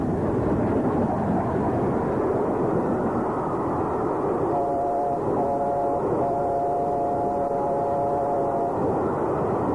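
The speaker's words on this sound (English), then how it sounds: "Gresley A4 Pacific number 4498, Sir Nigel Gresley, races through the station with its northbound special train." A loud rushing roar as the Gresley A4 Pacific steam locomotive No. 4498 Sir Nigel Gresley races through a station with a train, with a brief whistle-like tone sounding in short bursts partway through.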